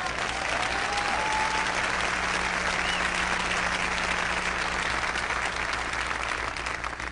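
Steady, dense applause from an audience at a motivational talk, continuous and even for the whole stretch with no pauses, loud and close, with a faint murmur of voices mixed in.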